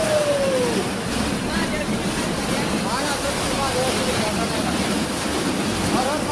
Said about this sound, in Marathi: लय जोरात पाणी आहे.